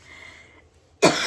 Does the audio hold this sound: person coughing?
yes